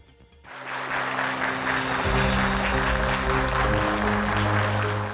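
Warm applause from residents greeting the President, starting after a brief quiet moment and then continuing as steady, loud, dense clapping from a close crowd, with a low hum underneath.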